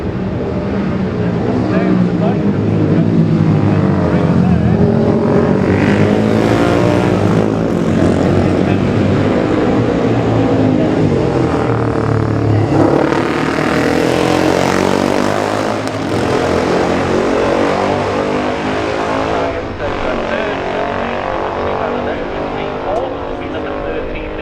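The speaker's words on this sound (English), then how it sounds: "And finally, Chris Bray, number 63, the only Beezer in the race." Classic motorcycles roaring through the 2018 Classic TT junior race, including a single BSA, a sustained loud engine howl that rises and falls as bikes pass, with a commentator talking over it.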